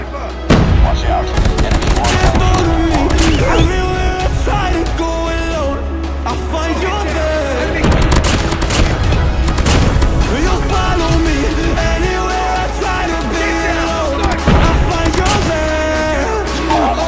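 Rapid bursts of M13 assault rifle fire in the mobile shooter game Call of Duty Mobile, loud and dense with layered in-game effects and a steady musical bed running throughout.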